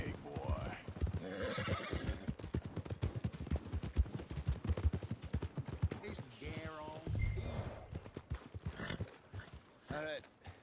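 Horse whinnies and clip-clopping hooves in the Red Dead Redemption 2 video game, several loud neighs among steady hoofbeats with distant gunfire, under ongoing character dialogue.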